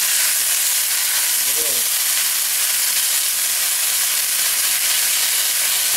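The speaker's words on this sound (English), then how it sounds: "That water burning off, giving us that nice little sizzle right there" Steady broadband sizzling of peppers frying in hot oil in a pan, continuous and close, with a brief low clunk partway through.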